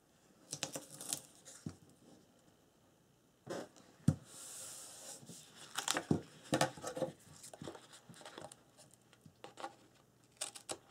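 Scissors cut paper for a wedding scrapbook album, making quiet, close snips and crisp paper rustles in irregular bursts separated by short pauses.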